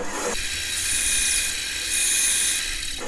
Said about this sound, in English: here I am at the bandsaw. I'm just going to cut this out